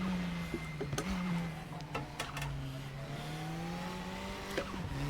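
A KTM race car in the RaceRoom racing game idles along slowly on an out-lap, its engine a steady low drone with a few light revs, occasional faint clicks and brief tyre noise, with no talking.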